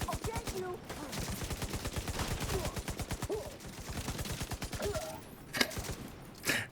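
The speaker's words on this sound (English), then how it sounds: "Shooting forward, I shot the guy behind me because he was in the camera" Rapid automatic gunfire in a video game, a long steady stream of sharp evenly spaced shots lasting several seconds, then a pause and a couple of louder isolated bursts near the end.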